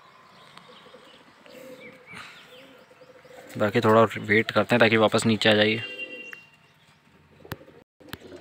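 Pigeons coo in a loud burst of throaty, repeated calls lasting a couple of seconds close by, with someone speaking quietly before and after and a few light taps.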